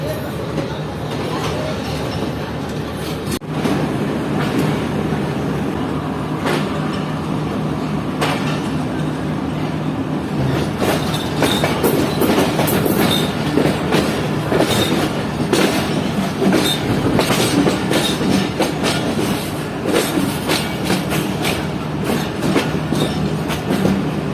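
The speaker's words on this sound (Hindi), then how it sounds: "ये 33 अब park business express platform number 3 पर लग रही है इस वक्त।" The Business Express train pulls in at platform 3 of a railway station, with a loud continuous rumble of wheels and clickety-clack of rail joints that grows stronger and busier toward the end.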